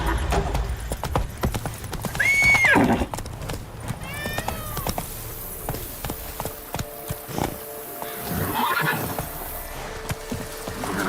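In The Witcher 3, a horse's hooves clip-clop along in a steady galloping rhythm, with a whinny early on and a voice speaking briefly over the hoofbeats.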